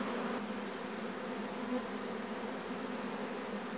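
Honey bees from an opened Apis hive buzz steadily and closely throughout, a dense continuous drone with no talk over it.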